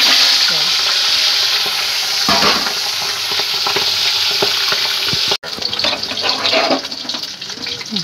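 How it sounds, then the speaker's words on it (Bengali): A katla fish head fries in hot oil in a pan, sizzling loudly and continuously up close, with stirring scrapes and bubbling spatter and a brief break midway, heard alone. "আমার মাছের মাথা পুরো ভাজা হয়ে গেছে"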